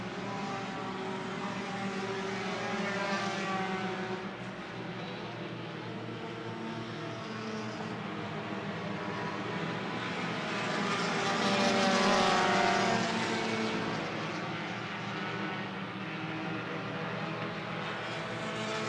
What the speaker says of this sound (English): First, second, and third racing their way through turn number 4 right now.